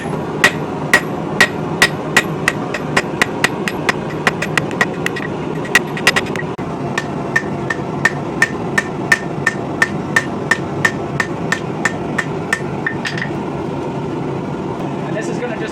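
Sharp, ringing hammer blows strike metal in a steady rhythm while forging a fuller set hammer from an old ball peen hammer, dozens of close, loud clangs in quick succession over a low background hum.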